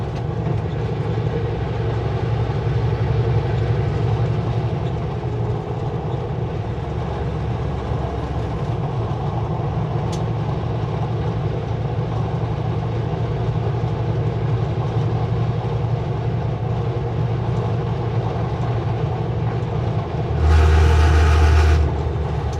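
A train rolling steadily down a steep grade near Lillooet, British Columbia, with a low, continuous rumble and faint rhythmic rail noise, heard from inside, with a brief louder burst near the end.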